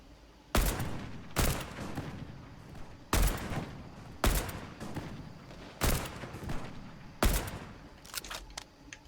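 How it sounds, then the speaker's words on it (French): AK rifle shots in the Fortnite video game, seven sharp reports fired one at a time at uneven intervals of about a second, each with a brief ringing tail over quiet game ambience, no voices. "Sachant que l'AK c'est hyper précis quand même quand tu tires."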